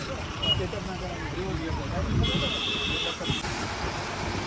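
Road traffic idles and rumbles in a traffic jam during a pilgrimage procession in Maharashtra, steady engine drone with a brief high beep partway through, heard close around the vehicle.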